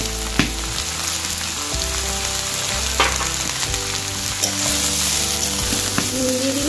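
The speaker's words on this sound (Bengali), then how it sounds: "আর এই সবজিগুলো ভাজতে ভাজতে এখানে আমি নুন দিয়ে দিলাম" Vegetables and potato sizzle steadily in a hot pan with salt added, a loud continuous frying hiss broken by occasional clinks and scrapes of stirring, with no talking.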